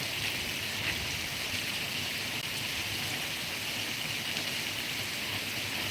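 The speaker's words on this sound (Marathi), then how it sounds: "खूप चांगला आणि जोरदार असा पाऊस बरसतो आहे" Heavy monsoon rain pours steadily and evenly, a dense continuous hiss of downpour with no voices over it.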